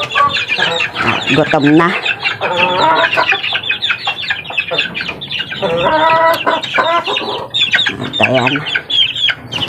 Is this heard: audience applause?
no